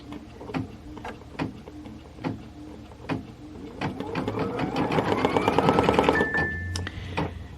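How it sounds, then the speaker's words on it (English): An embroidery machine stitches tack-down circles for a Kimberbell Cup of Cheer project, starting as a series of separate short mechanical bursts, then running steadily with a rising motor whine and rapid needle chatter close by. "So I'm going to stitch the tack down circles on this"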